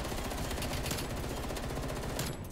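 FFAR 1 rifle fire in the Call of Duty Cold War video game rattles in a loud, continuous rapid-fire stream of shots that fills the whole moment.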